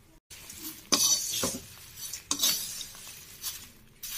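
Roughly 250 grams of poha is stirred in a pan over a low flame, giving scraping and clinking strokes of a utensil against the metal in an uneven rhythm, close and moderately loud, with a faint sizzle underneath.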